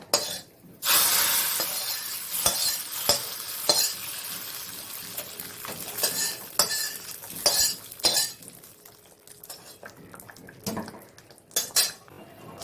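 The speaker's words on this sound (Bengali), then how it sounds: "এবার ফোড়নটা দিয়ে দেবো।" Tempering spices hit hot oil and sizzle as they go into khichuri, a burst of loud frying hiss followed by repeated clatter of a metal spoon scraping and stirring the pot, with no talking.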